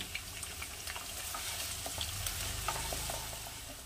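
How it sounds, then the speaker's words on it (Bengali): Steady sizzling of onions frying in oil until browned, with occasional stirring scrapes and crackles throughout, fairly quiet and close. "পেঁয়াজটাকে আমি ভালো করে লাল করে ভেজে নেব"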